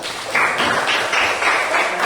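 A classroom of students applauding a classmate during an arts and music lesson, brief close clapping from a small group lasting about two seconds.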